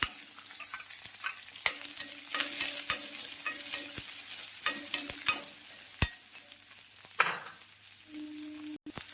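Small onions and unpeeled garlic frying in a pan, a gentle sizzle broken by sharp clinks and scrapes of a spoon stirring, close and fairly quiet, no talk.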